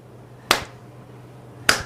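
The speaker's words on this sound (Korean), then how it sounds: "이러고 박수를 쳤어." Two sharp hand claps ring out about a second apart, each crisp and close with a short decay, over a quiet background with a low hum.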